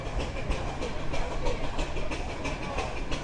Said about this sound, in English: waiting for the traction engine tour to come up the hill here, because I reckon that'll make quite a noise as it climbs the hill